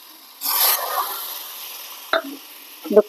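Milk poured into a sizzling cooked spice masala of cumin paste, pepper powder and chilli makes a sudden loud hiss that fades into a soft simmer, followed by two brief scraping stirs.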